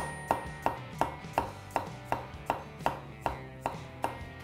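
A santoku knife chops vegetables steadily on a cutting board, about a dozen crisp, evenly spaced strikes close up, with no voices.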